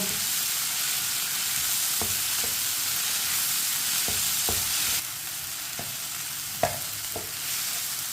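Tomatoes cooking in a pan for stuffed bitter gourd, a steady soft sizzle with a few brief scraping stirs and one sharper clack, close and alone, growing a little quieter midway.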